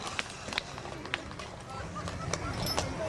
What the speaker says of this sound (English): Horse of the Clydesdale